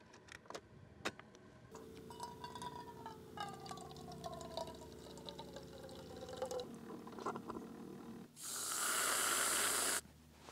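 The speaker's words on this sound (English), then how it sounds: "I'm going to take out my Keurig and plug that in." A Keurig coffee machine brewing hot chocolate while camping clicks and hums for several seconds, then bursts into a loud, steady hiss of pouring and steaming near the end before cutting off.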